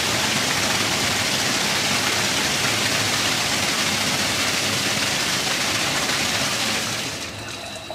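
Steady, loud rush of water runs continuously through a Hydra Max 2550 toilet flush valve, a dense broadband hiss that holds for about seven seconds before dropping slightly at the end.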